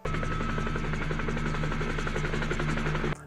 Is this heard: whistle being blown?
no